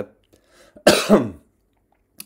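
A single close, sharp cough bursts out after a quiet moment, followed by a faint click at the end.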